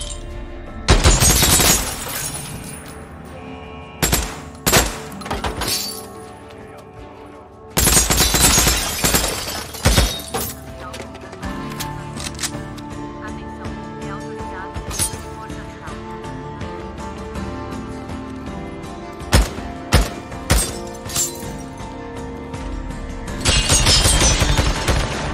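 Bursts of rapid gunfire in the video game Days Gone crackle and pop in clusters, with sharp single shots and booms scattered between quieter pauses, rooftop snipers firing.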